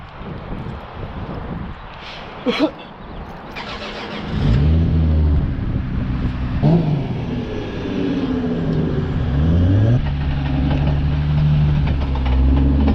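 Lexus SC300 engine cranking and starting, then settling into a steady loud idle with slight revs and a rising, uneven rumble, heard close up without talk.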